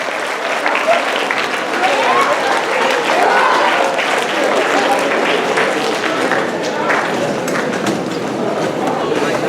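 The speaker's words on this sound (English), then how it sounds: "Clap them together real hard above your head for Sugar Ray Destin Jr." A crowd claps long and loud for Sugar Ray Destin Jr. at a house meeting, a dense, unbroken roar of applause with scattered cheers throughout.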